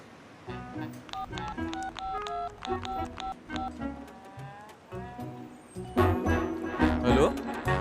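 A quick series of short, distinct telephone keypad tones beeps out a number, followed by louder background noise and a faint voice.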